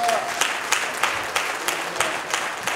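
An audience at a ministry conference applauds, a dense patter of clapping with a steady pulsing rhythm, close and lively.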